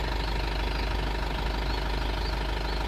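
A Toyota safari vehicle in Yala National Park, Sri Lanka, reverses along a track, its engine idling in a steady, close, loud low rumble with a slightly knocking texture and no voices.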